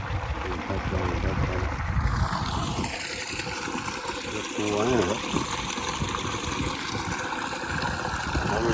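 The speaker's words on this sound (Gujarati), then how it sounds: "ઘણી બધી પાણી આવે છે" Water gushes steadily from a running farm pump, a continuous broadband rush with a low mechanical drone underneath, loud and close throughout, with brief voices heard over it.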